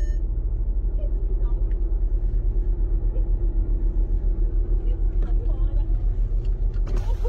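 A car engine idles with a steady low rumble throughout, while people argue and talk over it in a tense roadside confrontation.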